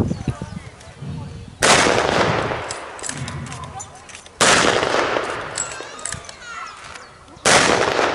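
Volley of bolt action rifles fired together at an outdoor firing display, three loud sharp reports a few seconds apart, each followed by a rolling echo and decay, with faint background voices between shots.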